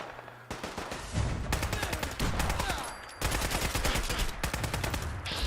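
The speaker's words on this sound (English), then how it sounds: "Full-on machine gun." Sustained bursts of Gunner Commander machine-gun fire in Fallout 4, loud rapid rattling volleys with short gaps between them, near and dominant, with a faint voice underneath.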